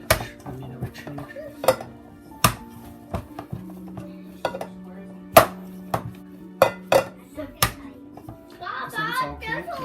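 Meat for beef meatballs being pounded by hand in a home kitchen, a run of sharp, separate thumps at an uneven pace, close and fairly loud, with a low steady hum behind and brief clatter near the end.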